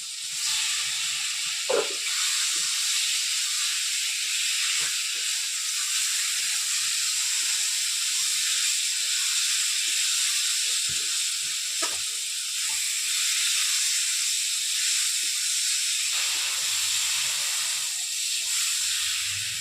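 Potatoes tossed into a pan of pointed gourd paste and spices for a vegetarian Bengali dish sizzle with a steady, loud hiss, broken by occasional scraping and clinking of a spatula throughout.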